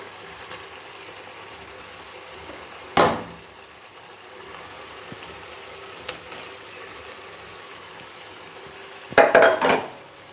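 A utensil clanks and scrapes against a cooking pot as fried brinjal is mixed in: two short, distinct clattering bursts several seconds apart over quiet kitchen background.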